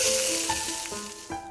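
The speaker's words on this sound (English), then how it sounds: "Then Bigfoot came back to cook his fish." Fish frying in a pan, a steady close sizzle with faint stirring scrapes and a few soft knocks.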